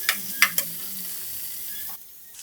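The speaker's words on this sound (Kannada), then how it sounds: "ಒಂದು ಈರುಳ್ಳಿಯನ್ನು ಹಾಕ್ತಾ ಇದ್ದೇನೆ. ಹಾಕ್ಕೊಂಡು ಚೆನ್ನಾಗಿ ಫ್ರೈ ಮಾಡಿಕೊಳ್ಬೇಕು" Onion frying in a pan with mustard seeds and curry leaves for a drumstick leaves and mung bean palya, a bright steady sizzle with a few sharp pops and clatters at the start, then fading quieter near the end.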